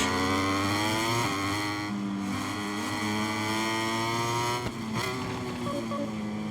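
Racing motorcycle engine from the MotoGP 23 game, a loud steady high-pitched whine holding near constant with slight pitch shifts and a brief dip near the end, no talking over it.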